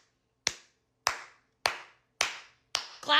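Five slow, evenly spaced single hand claps ring out one at a time, crisp and close, each decaying before the next, with a final pair of quicker claps bunched together at the end.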